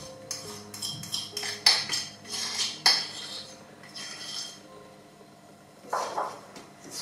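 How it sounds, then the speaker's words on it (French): A fork mixes waffle dough with milk and yeast in a bowl, making irregular clinks, taps and scraping knocks. The sounds come in short bursts with quiet gaps between them. "vous allez commencer par mélanger un peu à la fourchette et ensuite on y va à la main"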